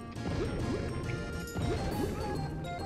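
A kart crash in the Mario Party 2 video game: a loud, continuous crunchy smash-and-clatter with repeated thwacking impacts filling the short moment, heard close and alone.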